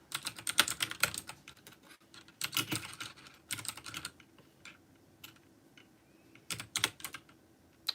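Keys clatter on a small computer keyboard in irregular bursts of quick clicks separated by short pauses, close and fairly quiet, with no voices.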